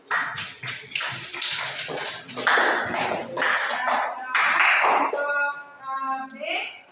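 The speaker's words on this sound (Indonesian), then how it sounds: "Kita beri tepuk tangan." An audience claps for a group that has just finished a classroom presentation, a dense, steady patter of many hands that carries on for several seconds before tapering off, with a few voices mixed in near the end.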